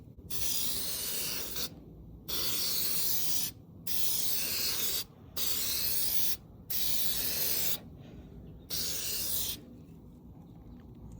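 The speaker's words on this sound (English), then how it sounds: "I'm gonna clear coat it with the McGuire here," Meguiar's headlight clear coat is sprayed onto a Corvette C6 headlamp in six close, loud hissing bursts of about a second and a half each, separated by short pauses, followed by quiet; no one speaks.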